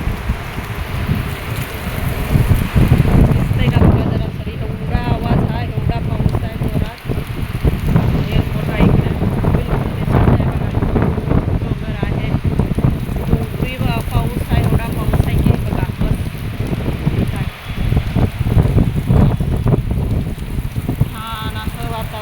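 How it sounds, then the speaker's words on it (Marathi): Heavy monsoon rain pours down in Mumbai, a loud, steady broadband roar that runs unbroken from start to finish, with a voice audible at times beneath the downpour. "आज भरपूर पाऊस आहे मुसळधार पाऊस मुंबईला"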